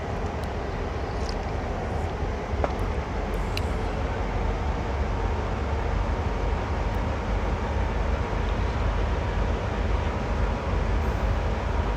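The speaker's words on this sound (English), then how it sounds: "Backing up. And the train is not coming with me this time." Diesel freight locomotive backing up in Train Sim World, a low continuous rumbling drone with steady mechanical grind, close and even for the full stretch, with a few faint clicks on top.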